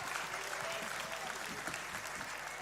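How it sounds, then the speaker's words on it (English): Audience applause following a Christmas carol performance by a church group, a steady, fairly quiet wash of many hands clapping throughout with a faint murmur of crowd underneath. "Can we give them a big round of applause?"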